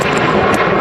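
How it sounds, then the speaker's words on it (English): A KLM Boeing 737 jet taxiing at Manchester Airport on a windy day gives a steady, loud broadband engine roar with no pauses, close by, and no talking over it. "got a KLM, I think it's a 737 on a taxi out"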